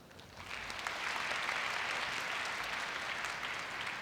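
Hall-filling applause at a Korea University freshman entrance ceremony, starting a little softer and swelling within the first half second into a steady, dense roar of clapping hands from many people.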